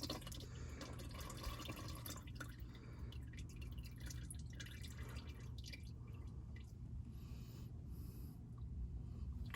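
Engine oil draining from the open drain plug of a 3.5 L V6 Pontiac G6 GT, a steady close trickle and drip of liquid running continuously under a constant low hum.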